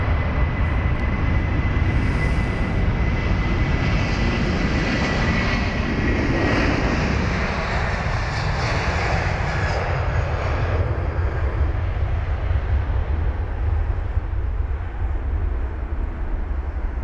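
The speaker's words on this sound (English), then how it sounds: "And already rotating, looks to be a very, very light A330." An Iberia Airbus A330-300, a lightly loaded ten-year-old jet bound for Madrid, takes off from London Heathrow with a loud, close, sustained engine roar. The roar slowly fades and thins as the aircraft climbs away.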